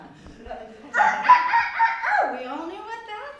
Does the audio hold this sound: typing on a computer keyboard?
no